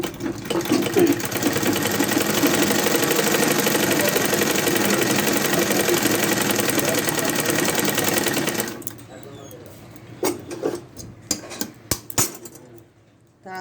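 A sewing machine runs loud and close for about nine seconds as a folded blouse hem is stitched, then stops, leaving scattered clinks and handling clatter, with a voice speaking around it.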